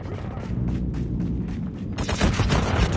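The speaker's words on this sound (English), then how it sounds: "We have called in a strafe run." Strafe-run gunfire in the Call of Duty Mobile video game on the Combine map: a dense, continuous rattle of rapid shots that grows louder and sharper partway through, with a low rumble running underneath.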